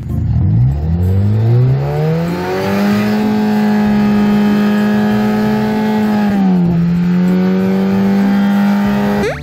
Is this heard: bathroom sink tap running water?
no